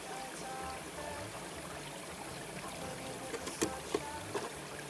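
Creek water runs through a gold sluice box, a steady close rushing and trickling wash with a few faint knocks near the end, constant and fairly quiet, with no one talking.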